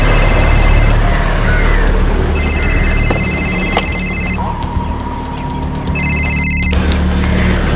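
A telephone rings in repeated bursts, loud and close, over a steady background hum, with short pauses between the rings.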